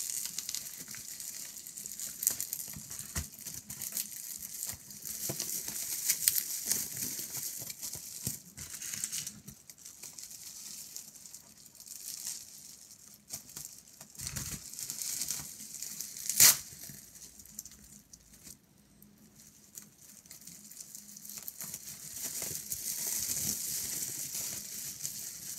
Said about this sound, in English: bubble wrap, let's just cut open the thing in the middle.